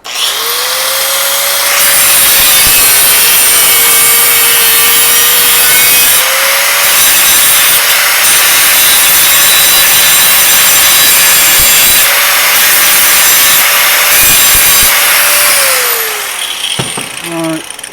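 A small 1/16-inch cutoff wheel grinds through a Chevy C10 exhaust pipe in one long, loud, steady whine, the pitch sagging slightly as the wheel bites, then winding down near the end.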